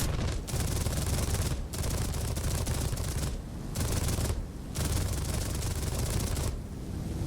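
Rapid machine-gun bursts from a Bf 109 E-1 fighter in War Thunder rattle in dense, loud stretches broken by short pauses, heard alone with no voice over them.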